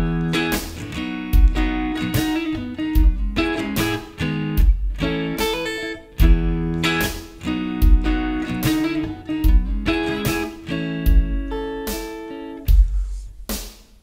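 Funky, percussive guitar strumming of a song's verse part, played solo with rhythmic chord stabs and muted scratches, loud and close throughout.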